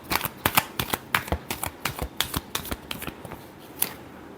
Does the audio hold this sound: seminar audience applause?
no